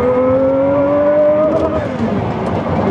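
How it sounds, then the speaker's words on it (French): A Pagani Utopia engine droning at high revs up to 6800 rpm in quiet exhaust mode, the pitch climbing steadily before dropping as it shifts, loud and close from inside the cabin. "on est en mode discret d'échappement, ça gueule, ça prend 6800 tours"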